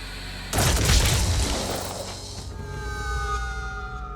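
A mine fragger in the video game Phoenix Point blows up after being shot, giving one sudden loud boom that rolls into a fading rumble, followed by a soft mechanical hum with faint tonal whines.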